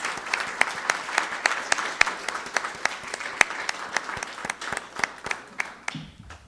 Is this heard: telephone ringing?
no